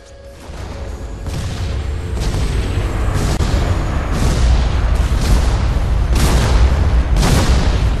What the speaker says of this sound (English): Warning. Reactor core destroyed. All personnel abandon ship.